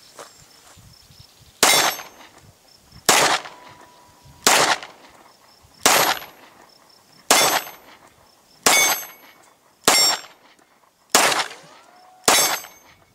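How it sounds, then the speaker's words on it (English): Glock pistol, a project build, fired offhand one-handed with a limp wrist: eight loud, sharp reports spaced evenly about every second and a half, each with a short ringing tail, and no talking. "Now the real test is offhand with one-handed shot."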